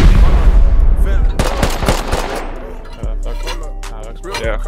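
Gunfire in the video game Rust, loud rapid shots and bursts up close, then quieter sporadic pops, with players talking over the action.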